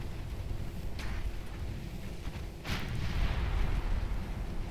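Naval gunfire in the Ultimate Admiral Dreadnoughts warship game, with a shell striking a turret: muffled, distant booms, a softer burst followed by a heavier one, over a low continuous rumble.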